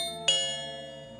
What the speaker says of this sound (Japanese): 呼び鈴を押した。